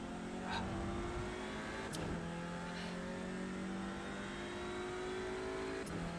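A touring car engine in iRacing at Spa pulls hard under acceleration, its loud drone climbing steadily in pitch and dropping at two gear changes, continuous throughout with no voices.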